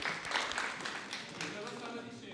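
An audience at a Cineforum film club gathering applauds Francesco, a dense patter of many hands clapping at moderate loudness that slowly thins out.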